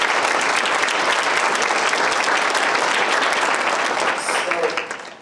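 A conference audience at a 50th anniversary opening session claps steadily and loudly for about five seconds, the dense applause thinning and fading at the end.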